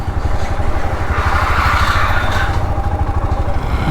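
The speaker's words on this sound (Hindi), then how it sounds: "मेरा वेट कम की वजह से मैं बाइक चला रहा हूँ" A motorcycle being ridden gives a loud, continuous engine drone with rattling road noise, close and steady, with no talk.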